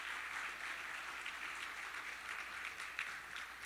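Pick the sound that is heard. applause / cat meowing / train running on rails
applause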